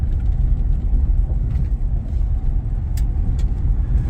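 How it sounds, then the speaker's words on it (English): A light truck with soft suspension drives over bumpy ground, a steady loud rumbling road roar with a few brief rattles and knocks from the bumps. "the truck's handling the bumps pretty good"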